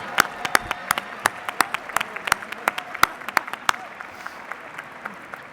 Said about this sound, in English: Please, yeah, we can clap.